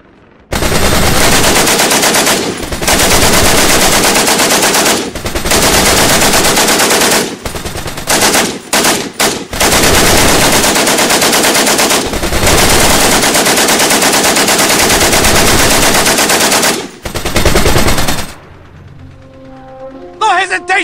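Sustained machine-gun fire rattles loudly in a Stalingrad war video game, long dense bursts broken by brief pauses, before cutting out near the end; shouted voices mix into the din.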